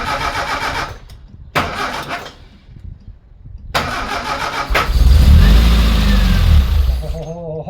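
A supercharged Morris Minor engine cranks in several short bursts on choke, then catches and roars into a loud, rough idle up close.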